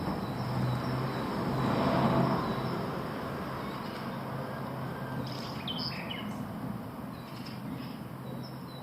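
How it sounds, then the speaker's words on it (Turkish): Several short, high bird chirps rise faintly over steady outdoor rumble, likely traffic, in Kerpe, Turkey, with the calls clustered in the second half. "Kuş seslerini duyuyor musunuz?"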